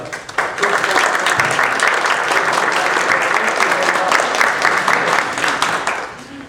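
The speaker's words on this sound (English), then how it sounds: "a round of applause for the" A banquet audience gives a loud, sustained round of applause close by. The dense clapping runs steadily for about six seconds before tapering off.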